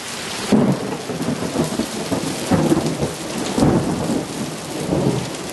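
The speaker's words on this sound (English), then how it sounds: "But the thunder is so loud." Thunder rolls in repeated loud rumbles, three or four surges, over a constant roar of heavy rain falling during a storm in Forks, near and intense, with no voices.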